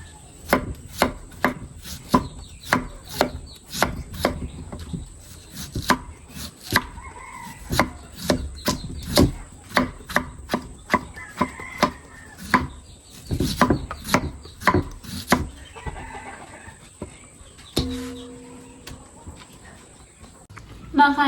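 Bamboo shoots being chopped into pieces with a knife on a board, a long run of sharp, close thwacks in uneven rhythm, with someone speaking softly between strikes.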